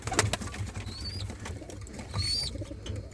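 Pigeons moving about near a loft as birds are put back inside give soft low cooing and scattered rustles, with a couple of faint higher whistles and a brief bump, all fairly close.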